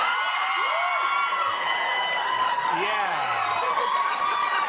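A large crowd cheers and whoops loudly and steadily, with scattered high voices rising above a dense wall of noise.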